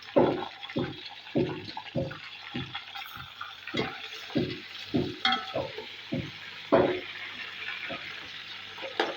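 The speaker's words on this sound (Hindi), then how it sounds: "साथ में हम ये लहसुन अदरक का पेस्ट डाल के इसको भून लेंगे" Two kilos of chicken fry with garlic-ginger paste in a pot for haleem, sizzling softly. A spoon scrapes and stirs in a steady rhythm of repeated strokes.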